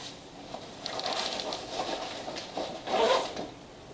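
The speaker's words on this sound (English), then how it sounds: "is in this little zipper pouch on the side right here, and it just comes out and unfolds" The zipper on a small side pouch of Away luggage is drawn in a few quick, close rasping pulls, with brief pauses between strokes.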